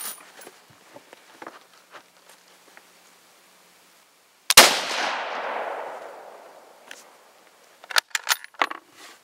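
A single sharp rifle shot cracks out nearby, its report decaying into a long fading echo over a couple of seconds, with faint rustles and small clicks before and after while the rifle is sighted in outdoors in the evening.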